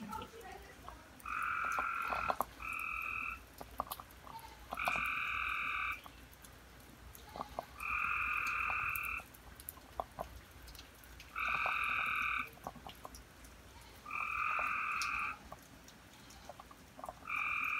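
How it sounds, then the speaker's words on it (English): A loud frog croaks at night in a repeating pattern of bursts, each lasting about a second, separated by short pauses over a faint background hum. "there was a really loud frog making noise too"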